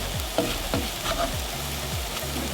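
Food frying in a pan with vegetables for a quick breakfast, a continuous close sizzle broken by repeated scraping and flipping knocks from a utensil against the pan.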